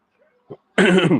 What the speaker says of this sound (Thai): กระแอมเสียงดังไปนิดหนึ่งนะฮะ